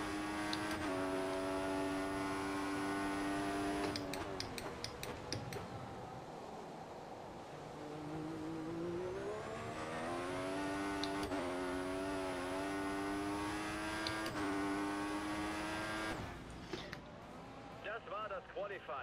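A Formula 1 car in F1 2014 accelerates during Malaysia qualifying, its high-pitched engine whine climbing through gears with abrupt shift breaks, steady and close, while someone talks over it.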